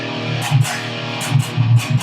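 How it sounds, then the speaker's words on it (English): Palm-muted distorted electric guitar chugs in tight, choppy bursts, with a rhythmic pattern of thick, percussive low accents over a steady distorted drone. "palm muting is just a technique"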